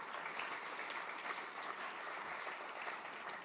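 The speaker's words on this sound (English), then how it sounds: "That also deserves a round of applause" An audience at an evening gala and summer party gives a round of applause, steady clapping that carries on evenly throughout, heard faint and somewhat distant.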